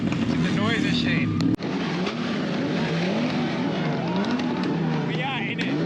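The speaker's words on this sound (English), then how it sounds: "Just engines popping like this." Car engines at a car meet drone and rev continuously, rising and falling in pitch, with a sharp pop partway through and voices talking underneath.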